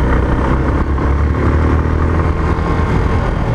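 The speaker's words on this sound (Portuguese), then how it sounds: "Pela velocidade que eu estou colocando na moto" A motorcycle ridden fast along a rural road gives a steady, loud engine drone mixed with wind rush, with no break across the short stretch.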